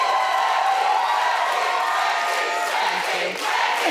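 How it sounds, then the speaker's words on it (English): A television talk show studio audience cheering and roaring as a loud, sustained, unbroken wall of crowd noise, with no clear talk on top. "I love the roar of the crowd"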